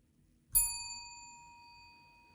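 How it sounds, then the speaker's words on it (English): A single bell strike rings out once, bright and clear, its metallic tone hanging and fading slowly over two seconds in an otherwise quiet room. "The bell is here."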